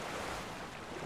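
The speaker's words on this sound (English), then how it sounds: "I just let the water in." Water rushes into a shrine chamber in Zelda: Tears of the Kingdom, a loud, dense, continuous roar of flowing water filling the short moment without pause.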